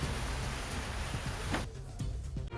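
Heavy rain pours steadily during a storm in Dharamshala, a dense continuous hiss of downpour with a few low thuds underneath, and it thins out briefly near the end.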